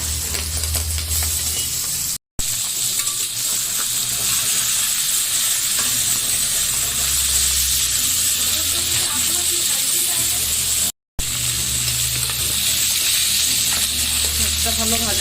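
Pangas fish seasoned with chili, turmeric, salt, coriander-cumin and ginger-garlic paste sizzles steadily in hot oil, a loud continuous frying hiss with faint scraping, two brief dropouts breaking it.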